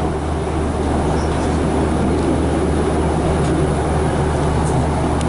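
Passenger train pulling out of a station on the Barry to Bridgend line in Wales, a steady loud interior rumble and hum of the moving carriage with no talk.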